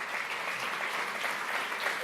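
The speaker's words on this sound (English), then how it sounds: "and let's give them a round of applause too." Audience applause at a healthcare collaborative learning summit welcome session, a steady dense round of clapping from a crowd, moderately loud and continuous for the whole stretch with no talk over it.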